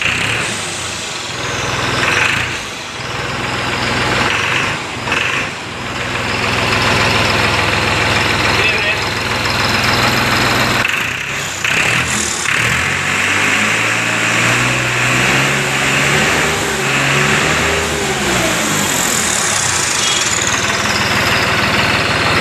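A Powertrac 3630 tractor diesel engine starts and runs, cranking and sputtering before settling into a steady idle with rising and falling revs, close by, while people talk over it.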